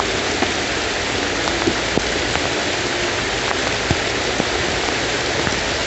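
Heavy rain pours down steadily in a rural Telugu household setting, a dense, loud, unbroken hiss with scattered close drops tapping on surfaces.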